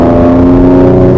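Infiniti Q50 exhaust in sport mode, tuned with a Racebox TCM and RaceROM, giving a loud, steady raspy drone with strong low harmonics, held at constant revs and sounding close and continuous with no talking.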